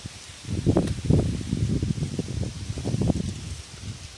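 Gusty wind buffets the microphone in low, rumbling bursts that rise and fall throughout, loud and close with no voices.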